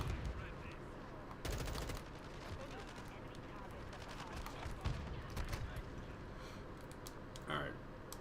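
An RPK machine gun fires in a video game in a few short bursts, fairly faint behind a player who talks throughout.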